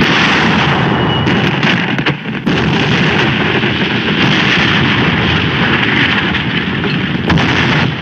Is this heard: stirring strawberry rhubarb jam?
no